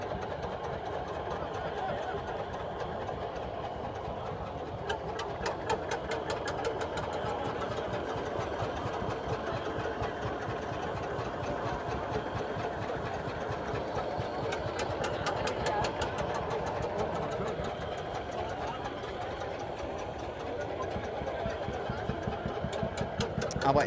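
A 1923 Lanz Bulldog tractor with a 6.2-litre, 12 hp engine runs at a vintage steam and diesel meet, a steady low chugging knock that continues throughout, with people talking nearby.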